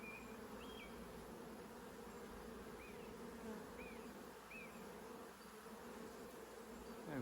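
Honey bees hum around a hive during a transfer from a nuc, a faint, steady swarm drone with occasional individual bees buzzing past nearby.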